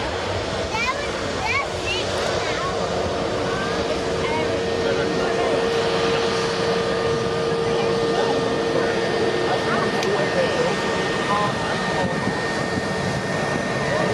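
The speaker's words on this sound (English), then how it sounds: "we've got the Jet 320 neo" A Jet2-operated Airbus A320neo jet at Manchester Airport, its engines a steady broad roar that holds loud and even throughout, with people talking over it.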